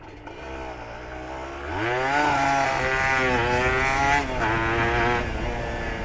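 A Honda NSR 150 RR two-stroke motorcycle with a cut-open stock exhaust and a worn engine with only new piston rings: it idles, then revs up into a loud, rising, raspy drone that wavers as the throttle is held, heard close.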